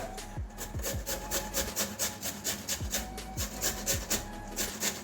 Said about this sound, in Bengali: এই ঘষুনির মধ্যে ঘষে নেব আলুটা